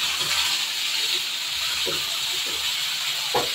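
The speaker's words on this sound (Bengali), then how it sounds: "আলুগুলো ভেজে নিয়েছি আর মশলাটা দিয়ে দিলাম।" Potatoes and spices fry in hot oil with a loud, continuous close hiss, a few soft scraping stirs of a utensil surfacing under the sizzle.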